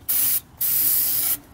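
Spray bursts into the engine of a long-neglected Mustang-based car, three hissing aerosol blasts of differing lengths, close and clear, with no talking.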